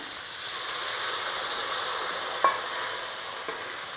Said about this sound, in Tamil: இப்போ நான் இதில் தண்ணி ஊற்றுறேன்.